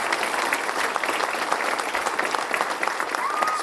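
Steady applause from a crowd at a ribbon-cutting grand opening for a community business accelerator and childcare initiative, honoring the governor; dense, continuous clapping with no gaps.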